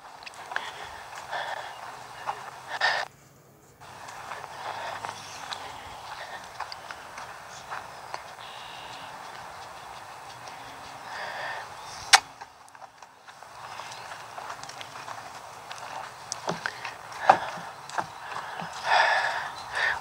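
Horse named Katie walking, a steady series of soft hoof clip-clops on the ground, fairly close and moderate in level, with a few pauses and occasional sharper knocks.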